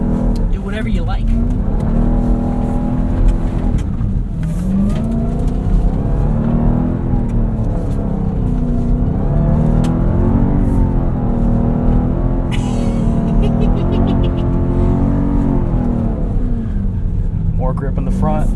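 A 710 hp Dodge Durango SRT Hellcat with all-wheel drive drifts on a snowy rally skid pad, its engine roaring loud and steady throughout and rising and falling with throttle, with tire noise and people talking underneath.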